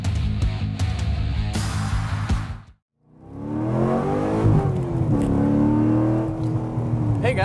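A Chevrolet Corvette's engine revs hard as it accelerates onto a highway, loud and close, with a brief drop to silence at a gear change before the roar climbs again and holds steady.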